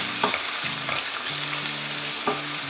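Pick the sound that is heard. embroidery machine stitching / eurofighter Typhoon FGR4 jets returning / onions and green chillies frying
onions and green chillies frying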